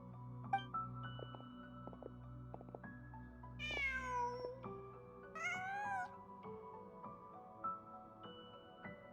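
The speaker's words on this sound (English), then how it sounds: "Huh. Just a cat." A cat meows inside the video game Genshin Impact, giving several drawn-out, rising mewls over a soft, steady musical ambience with light game effects. No one speaks.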